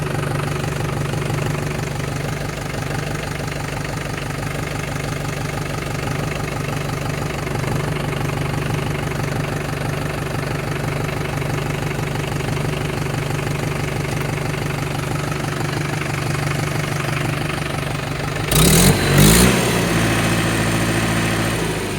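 A 2012 diesel tractor engine, either a Mahindra Bhumiputra or a New Holland, idles steadily and close by outdoors in light rain, with a brief louder rev near the end.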